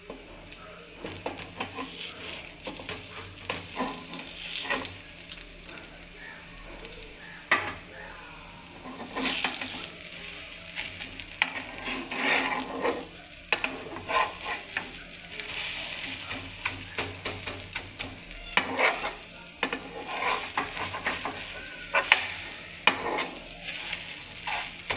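Soru chakli pitha, thin Bengali rice-batter crepes, cooking in a pan, a soft steady sizzle with intermittent scrapes and clatter of a spatula and utensils.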